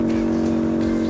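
A KTM Duke 890R naked motorcycle engine drones at a steady, loud pitch while riding, with a strong sustained hum and light wind rush over it.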